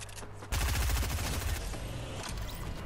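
Gunfire in the video game Fortnite erupts as a sudden loud burst of rapid shots, then keeps up a dense fusillade close by for the rest of the moment without any talk.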